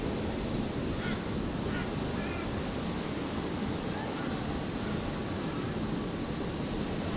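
An airliner arriving at Brisbane Airport roars steadily from a distance, a continuous broad engine rumble filling the whole stretch, with a couple of faint duck-like chirps.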